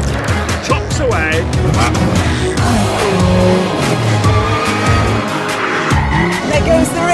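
A car skids with tires squealing as its rear slides out, the engine roaring close and loud while people talk and exclaim over it.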